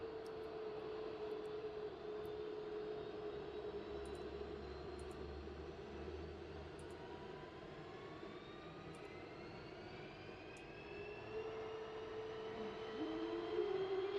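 An F-15E jet engine in the DCS flight simulator produces a steady, even roar with whining tones that slowly glide in pitch, while faint periodic clicks sound above it and the engine swells slightly louder at the end.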